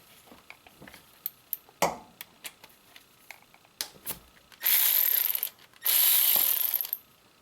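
A ratchet wrench loosens bolts on a Subaru engine during a teardown, giving scattered metallic clicks and ticks followed by two longer, louder whirring bursts, heard close up with no talking.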